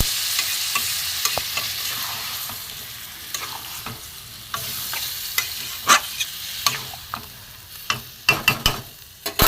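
Chicken with papaya frying in a pan after spice water is added, a steady soft sizzle with scattered sharp clicks and scrapes of stirring that grow busier toward the end, close and without talk.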